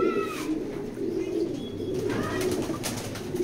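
A large male pigeon coos close by in a loft, low throaty rolling calls repeating over the short stretch, with faint chirps from other birds in the background.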